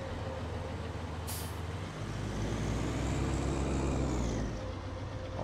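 A vehicle passing on a road in a farm-map driving game, a hiss of air brakes up front, then a loud rumbling swell that rises as it goes by and fades, with no voices.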